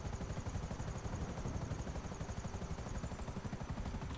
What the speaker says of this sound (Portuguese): esse helicóptero é muito sensível